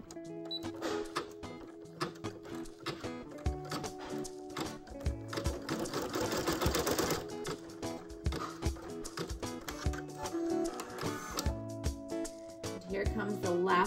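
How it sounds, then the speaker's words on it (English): An embroidery machine stitching an in-the-hoop glass slipper keychain outline, heard close as a fast, steady mechanical rattle of needle strokes with brief pauses and rhythmic clatter throughout. "this next stitch is going to do some stitches that will kind of outline some embellishments of it"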